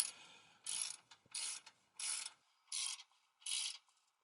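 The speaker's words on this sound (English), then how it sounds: "Start with wrenching the lower one in first." A ratchet wrench tightens a tow hook bolt on a 2022-2024 Toyota Tundra front end, with six close, rapid clicking bursts in a steady rhythm separated by short pauses.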